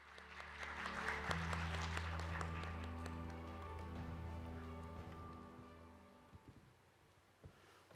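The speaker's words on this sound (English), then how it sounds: "Please welcome President Son with a big round of applause." An audience at the PyeongChang Peace Forum 2022 opening ceremony applauds, a sustained wash of clapping that swells early and fades out over several seconds, ending in a few scattered claps.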